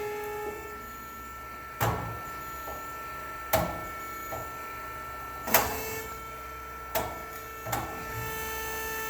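An Amada HA-400W horizontal bandsaw with a 1.5-inch blade and a 7.5 horsepower motor runs steadily. A constant mechanical drone is punctuated by regular clunks and knocks roughly every couple of seconds.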